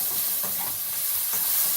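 Onions caramelizing in a pan, stirred with a steady soft scrape over a continuous broad sizzle, close and moderately loud with no talk.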